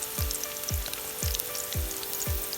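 Julienned ginger and garlic fry in a pan for chili garlic egg noodles, a close, steady sizzle punctuated by regular low knocks about every half second.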